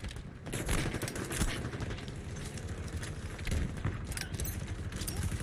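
Gunfire in a Squad match, dense overlapping rifle and automatic fire crackling continuously over a busy battlefield din, fairly loud with no clear pauses.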